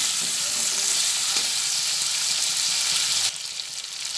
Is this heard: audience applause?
no